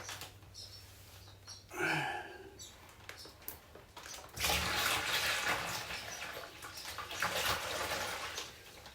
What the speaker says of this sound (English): next we're going to dump the entire contents of the juice bag into the bucket